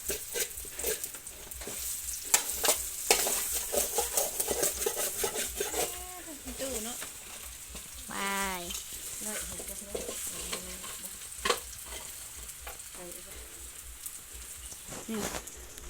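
Food sizzles and crackles steadily in a hot pan, with occasional stirring scrapes, while a person talks intermittently over the frying.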